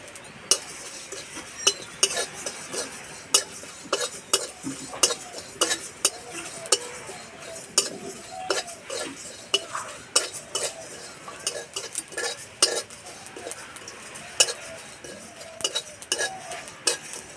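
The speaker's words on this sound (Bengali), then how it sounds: "শুকনো কড়াইয়ে গোটা মশলা ভেজে নেব" Whole cumin, coriander, fennel, nigella seeds and four dried red chillies dry-roasting in an oil-free kadai, with a spatula scraping and clinking against the metal in a busy, steady rhythm throughout, close and fairly loud, no voices.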